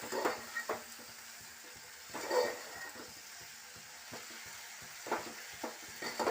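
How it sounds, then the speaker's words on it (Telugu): Tomato, coriander and ginger garlic paste are stirred in a pan, giving quiet sizzling broken by a few short bursts of spoon scraping and stirring. "ఇప్పుడు ఇందులో టమాటా కొత్తిమీర అల్లం వెల్లుల్లి పేస్ట్ వేస్తున్నాను ఇవన్నీ కలుపుకుందాం ఇప్పుడు"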